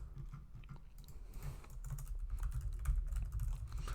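Steady typing on a computer keyboard, with quick, irregular key clicks going on without a break at close range.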